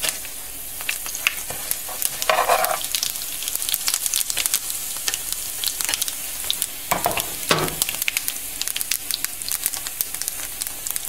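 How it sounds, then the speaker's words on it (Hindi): Fenugreek and cumin seeds fry in hot oil with a steady close sizzle full of dense crackles and pops, and a few louder hissing bursts when stirred, for a home-style aloo dish. "जब ऑयल गरम हो जाए तो उसमें एक चमचा मेथी के बीज डालिए और उनको थोड़ी देर भूना।"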